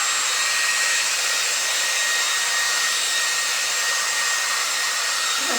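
A hair dryer blows steadily on craft leaves, a constant loud whooshing hum with a faint whine that runs unbroken and close throughout, with no voices.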